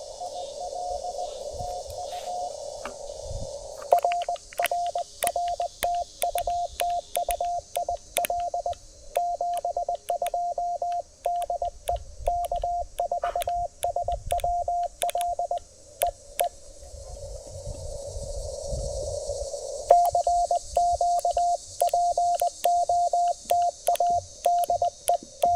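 Local QRM interference on the 20-meter band comes through a portable QRP ham radio outdoors, a hissing noise bed broken by repeated short tonal beeps and clicks in an on-off rhythm.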